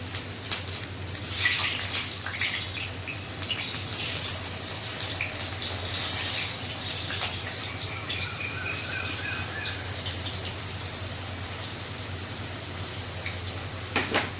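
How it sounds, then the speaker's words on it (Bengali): Boiled potatoes fry in a pan with a soft, continuous sizzle and crackle over a low steady hum, with a few louder spits and no one talking. "আর এখানটায় আলু এই যে বয়েল হয়ে গেছে, এটা আমি এখানটায় ফ্রাই করছি"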